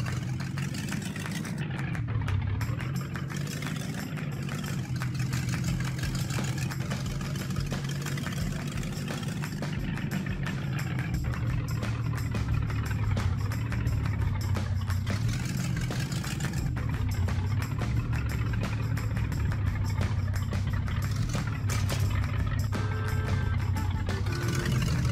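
Steady low engine drone of a tractor idling in a modern farming simulator game on Android, continuous and moderately loud throughout with faint clicks and game sounds over it, no talk.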